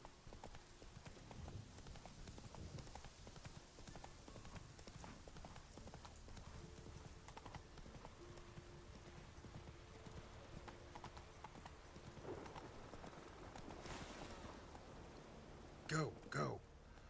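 Roach, the horse in The Witcher 3: Wild Hunt, clip-clopping along at a steady pace, hoof beats running under game sounds, with a short whinny near the end and a voice talking at times.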